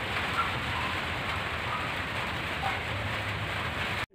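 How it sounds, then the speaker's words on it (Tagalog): Steady rain falls outdoors in a dense, unbroken hiss of drops hitting surfaces, loud and even from start to finish before cutting off abruptly. "hindi tumitigil ang ulan"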